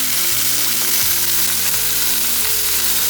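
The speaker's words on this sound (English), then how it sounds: "Okay, so the meat's braising. It's on a medium high." Beef stew meat searing in a pot over medium-high heat, a loud, dense, continuous sizzle with a steady hiss throughout and no talk.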